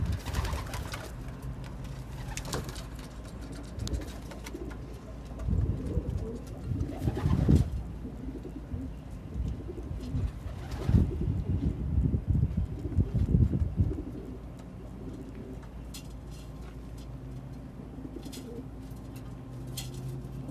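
Feral pigeons (Columba livia) coo in low, throaty rolls near buildings, the calls rising and falling across a busy outdoor ambience with scattered rustling and distant noise.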